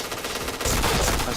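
Rapid video game gunfire with headshot hits: a quieter stretch gives way to a loud, dense burst of automatic shots from about the midpoint, continuing to the end with no talk.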